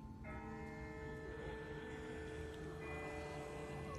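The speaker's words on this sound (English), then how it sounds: "That's not the same bell as before. This one's further off." A distant bell tolls in The Walking Dead video game, its long ringing tones hanging over a low rumbling game ambience, faint and far off with no talk.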